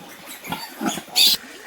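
Pigs grunt on a small village pig farm in Assam where a sow has recently farrowed piglets. A few close, rough grunts come out, ending in a louder, sharper squeal-like burst.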